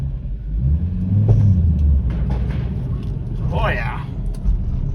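A 1990 Audi Coupe Quattro runs and pulls out of a hole, its engine a steady low rumble close by throughout, with voices talking over it.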